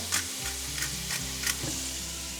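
Sauce bubbles and sizzles gently in a pan, with soft stirring scrapes every half second or so, close by and fairly quiet.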